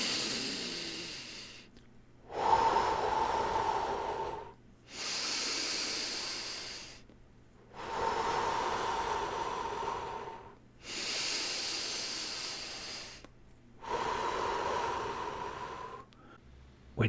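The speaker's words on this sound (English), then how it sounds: "I'll show you how to breathe this way." Deep belly breathing exercise, with six slow, loud breaths close to the mic in an even rhythm, each a long airy inhale or exhale about two seconds long separated by brief pauses.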